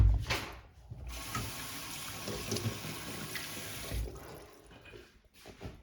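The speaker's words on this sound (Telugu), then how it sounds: "ఈ మిర్చిని వాష్ చేయాలి ఫస్ట్." Running tap water splashes into a sink as green chilies are rinsed by hand, a steady close rush with brief surges and drops, no voices over it.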